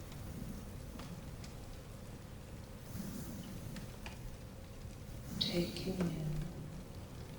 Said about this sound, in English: the rain as it continues to fall